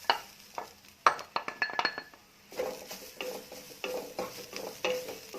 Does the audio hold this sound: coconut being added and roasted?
yes